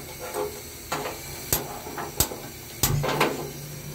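A cooking stove is lit for a small-fish curry with new potatoes and eggplant: a few sharp clicks and brief bursts of hiss, then a steady quiet flame, close and fairly soft.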